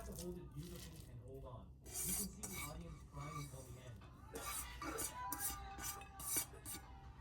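Shrimp and radish bhorta being kneaded and mashed by hand with coriander leaves, giving soft wet rubbing and squelching sounds in uneven bursts, close up, with a voice talking over parts of it.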